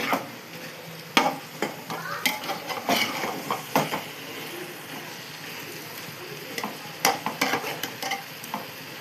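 A spoon repeatedly scrapes and clacks against a pot while chicken biryani masala sizzles and fries underneath, with irregular stirring knocks over a constant close hiss.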